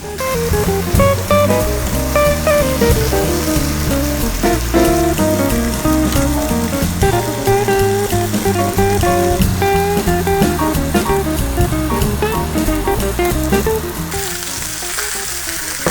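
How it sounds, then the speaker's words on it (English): Steady, loud sizzling of beef for roast beef frying in a hot pan, continuous throughout, with music playing alongside. "now let's put this right into the pan and see what happens. Oh yeah, listen to that."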